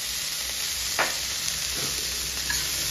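Finely chopped green chillies hit a frying pan while Chinese pohe is cooked, adding a brief stir to a steady, close sizzle that holds throughout.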